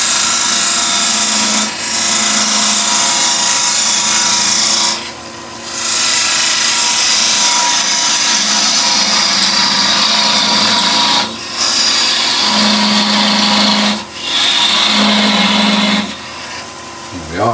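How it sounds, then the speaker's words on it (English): Wood lathe making a small passing cut in a tealight holder, a steady scraping whir from the tool on the spinning wood, broken by a few short pauses, with talking over parts of it. "Just put a little passing cut in where I'm going to take this off to."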